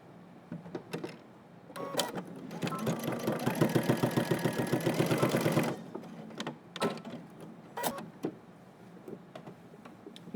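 A sewing machine stitches in the ditch on track trousers, a close, fast rhythmic run of needle clatter lasting a few seconds, with short bursts of stitching and handling noises before and after.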